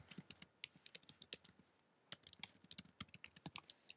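Typing on a computer keyboard, heard as quick, uneven bursts of crisp key clicks with a short pause midway, close and fairly quiet with no talking.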